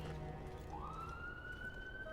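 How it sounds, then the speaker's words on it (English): A police siren rises and holds a long wailing tone over low city rumble, at moderate distance. "Oh, police sirens."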